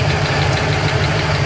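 A carbureted engine idles loudly and steadily up close, with a low throb and a faint, fast ticking from an exhaust leak at a missing header bolt running through it.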